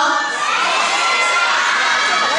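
A theatre audience at a Yue opera concert in Shengzhou calls out an answer together, a loud, dense crowd shout with a few higher children's voices mixed in, swelling briefly and holding steady.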